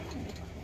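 A short, soft coo comes from a white-eyed Punjabi pigeon in a small flock, one low, quiet call with nothing else around it.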